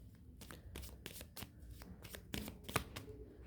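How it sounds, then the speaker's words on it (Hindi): Tarot cards being shuffled and drawn by hand, a series of quick crisp riffling snaps and flicks in an irregular rhythm, close and fairly quiet against a still room. "आखिरी कार्ड निकालती हूँ"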